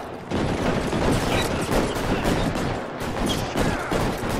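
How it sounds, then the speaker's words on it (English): Gunfire rings out in the crime video game L.A. Noire, a loud, dense volley of shots crackling almost continuously for several seconds with no talking over it. "He's shooting at us."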